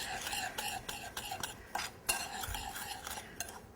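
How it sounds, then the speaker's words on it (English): A spoon stirring cinnamon and sugar in a bowl for apple Danish bars, with quick, steady scraping and light clinks against the bowl, close and fairly quiet. "now I have a cinnamon and sugar. I'm just going to mix this up"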